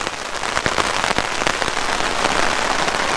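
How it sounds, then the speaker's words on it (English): Steady, dense patter of heavy rain drumming on the fabric of an REI Half Dome 4-person tent, with scattered louder drops hitting close by throughout. "dumping rain on our tent, and it's keeping us perfectly dry"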